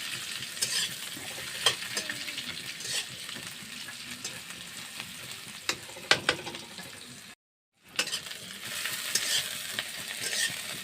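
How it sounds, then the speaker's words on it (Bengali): Chopped onion frying with nigella seeds in a pan, a steady close sizzle with scraping stirring strokes and a brief moment of silence. "পেঁয়াজটা অল্প ভাজা ভাজা করতে হবে।"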